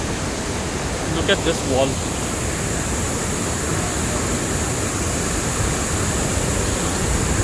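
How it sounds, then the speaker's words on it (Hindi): A large 50-foot waterfall in Chhattisgarh roars as a loud, constant broadband rush, with someone speaking briefly over it near the start. "कम से कम ये 50 फुट का वॉटरफॉल है"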